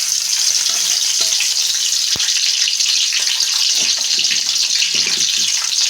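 Green chillies and onions sizzle loudly in plenty of hot oil, a dense steady frying hiss that fills the whole stretch with only faint clinks beneath.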